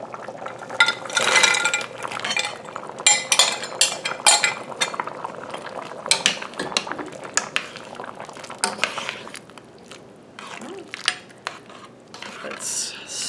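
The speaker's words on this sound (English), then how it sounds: "stir that up." Spoon stirring frozen tortellini soup with kielbasa and vegetables in a pot, producing soft liquid swishes and scattered metallic clinks against the pot, close and fairly quiet.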